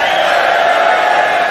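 A pool match crowd reacts with a dense, steady murmur and raised voices, a continuous close-up wall of chatter and cheering in a hall without pauses.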